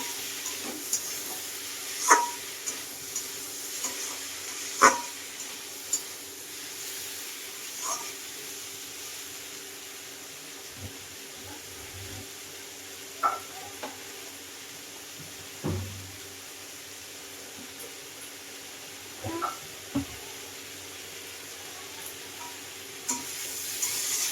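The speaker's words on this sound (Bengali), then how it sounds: "কষছি ভালো করে সুন্দর করে কষে নিচ্ছি" Spices fry and sizzle in a pan for a shing fish curry, with a steady hiss and scattered scrapes and knocks of a spoon stirring at an irregular pace, close by.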